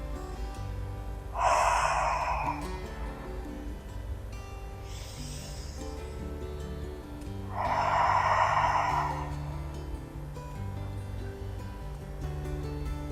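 Slow, deep breaths come close to the microphone, three long audible inhales spaced several seconds apart, with quiet stretches between them and a low background hum.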